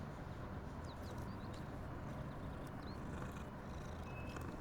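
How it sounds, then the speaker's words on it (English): A cat in the video game Hogwarts Legacy growls in a low, continuous rumble beneath a dense, steady layer of game ambience that fills the whole stretch. "the growling of a cat"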